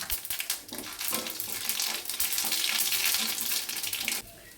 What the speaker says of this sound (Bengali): শুকনো লঙ্কা আর এই যে জিরে আর সর্ষে ফোড়ন দিলাম।